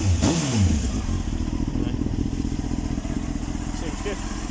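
A Honda CBR929RR Fireblade track bike revs up sharply, then settles into a steady, throbbing idle close by.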